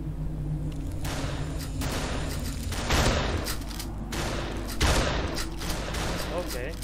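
Shotgun blasts from the Ravenfield video game, two heavy booms a couple of seconds apart over a steady rumbling game backdrop, with a voice talking throughout.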